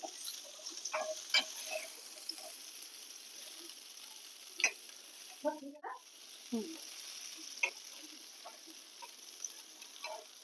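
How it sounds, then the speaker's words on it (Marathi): Stuffed okra sizzling on a tawa, with a soft steady crackle and a few sharp clicks and scrapes as the pieces are flipped, quiet and close with no voices. "थोडी आपण इथं पलटी करून घेऊया सगळी भेंडी"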